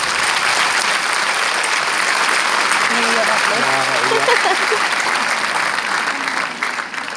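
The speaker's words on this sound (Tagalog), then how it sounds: "Salamat sa pumalakpak." Steady applause fills a graduation hall as a magna cum laude valedictorian gives the student response, with a voice speaking briefly over the continuous clapping midway.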